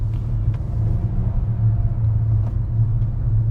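A 2026 Maruti Brezza 1.0L turbo facelift on the move, heard from inside as a steady, loud low engine and road rumble that never lets up, with no voices.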